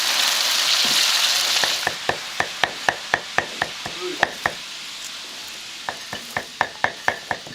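Gutted eels deep-frying in hot oil: a steady loud sizzle that fades, then a run of sharp clicks and taps spaced about every quarter second.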